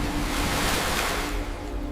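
Large masses of seawater sloshing across the flooded vehicle garage deck of the sinking ferry Al-Salam 98, a steady, loud, rushing wash with no break and no voices.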